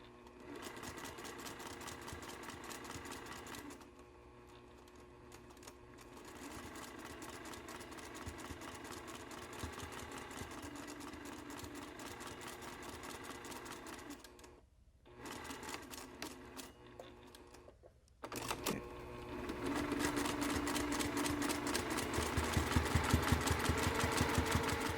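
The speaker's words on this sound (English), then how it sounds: "Let's go to the sewing machine." A sewing machine runs in steady stretches, its rapid mechanical stitching whirring on and off with brief pauses, then speeding up near the end.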